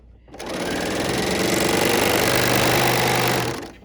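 A BERNINA L 850 overlocker runs a double rolled hem as a fast, steady, close mechanical whir with dense rhythmic stitching, starting and stopping cleanly over about three seconds, with no talk.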